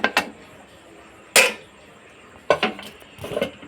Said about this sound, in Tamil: இப்போ நம்ம இந்த குக்கர் மூடியை திறந்து பார்க்கலாம்